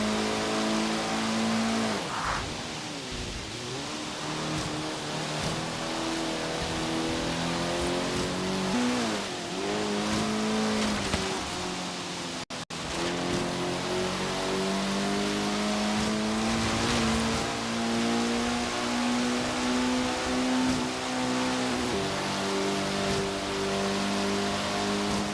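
A street racing car engine in Forza Horizon roars steadily at close range, revving up and down through the gears with rising and falling whine, continuous and loud with no talking.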